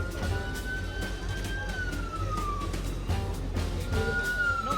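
A wailing RCMP police car siren rises and falls over busy crowd noise and rumble at an open house, with a second wail starting near the end.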